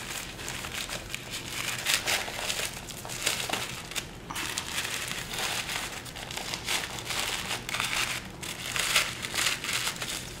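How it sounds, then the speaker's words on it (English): A wrapped gift being unwrapped: steady, close crinkling and crumpling of paper that rustles continuously and swells in louder bursts. "I don't think it's going to unwrap without, let's see."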